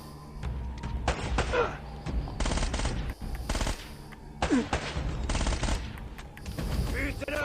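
Bursts of automatic gunfire in the Uncharted video game, several loud rapid volleys separated by short pauses, with occasional heavy thuds between them.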